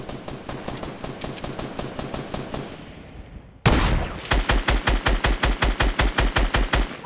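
Fortnite gunfire: a rapid run of shots, then a louder, closer automatic burst with a steady, evenly spaced rhythm.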